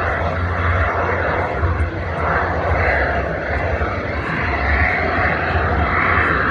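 Model aircraft with tiny jet-assisted takeoff engines producing about 60 pounds of thrust each, giving a loud, continuous, dense roar that holds steady and close throughout the takeoff.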